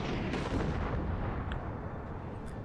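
Howitzer artillery fire in a video game sounds as a heavy, rumbling boom that rolls on and slowly fades, with a couple of faint sharp pops late on, and no talk.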